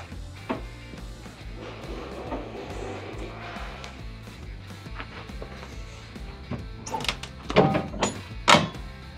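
A steel access door on a Keestrack R3H crusher swings shut with a couple of sharp metallic bangs and clanks near the end, after a stretch of low mechanical rumble.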